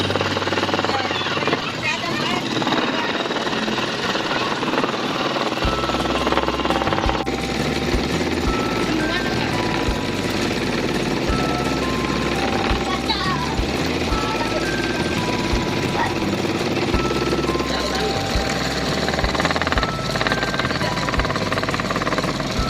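A powered woodworking machine cuts scrap wood into a round cutting board in a school project, giving a loud, continuous droning and grinding roar that runs throughout with a few shifts in pitch.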